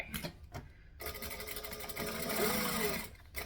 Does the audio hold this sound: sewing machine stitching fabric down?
yes